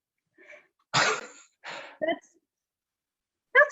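A sharp, explosive cough bursts out after a puff of hemp smoke, followed by a couple of shorter rasping coughs and breaths, in an otherwise quiet room.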